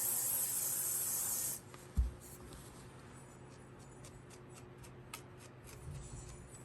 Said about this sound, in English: Spray it with some hairspray.